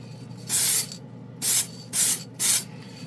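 Aerosol can of chrome spray paint spraying onto a black plastic spoon in four short, close hissing bursts, the first slightly longer, with quiet gaps between them and no voices.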